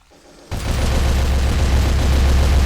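A hacked automated turret in Robocop Rogue City cuts in abruptly and sustains loud, dense rapid fire, a continuous roar of shots with heavy low rumble and no talking.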